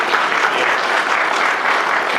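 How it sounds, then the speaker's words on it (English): A conference audience gives a round of applause for the panelists at a telecom panel in California, loud, dense and continuous clapping that fills the room without any talk over it. "give a round of applause for our esteemed panelists"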